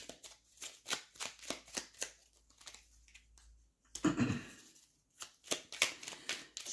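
Oracle cards being shuffled by hand: a run of crisp, rapid riffling bursts at close range, then a louder rustling shuffle, with no talking.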